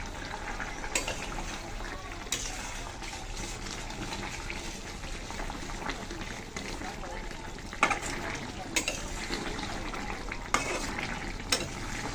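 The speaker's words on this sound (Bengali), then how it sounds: "মিশিয়ে দিচ্ছি খুব ভালোভাবে।" Fish curry with cauliflower and carp being stirred in a pot on the stove, a soft continuous sizzle with occasional scraping clinks of the spoon against the pan, fairly close and steady.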